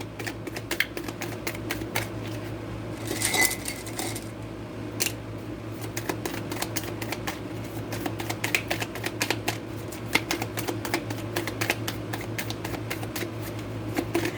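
Cards riffle and shuffle in quick bursts of crisp flicking and snapping, close to the ear, with a steady low hum underneath.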